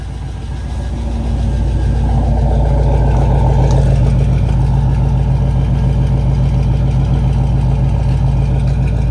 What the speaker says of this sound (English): Sounds like the idle's loud.